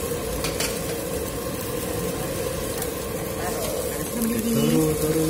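Large lobsters cooking in a hot pan, with a steady loud sizzle and frying hiss throughout and a stir or shift of food near the end; a voice talks over it.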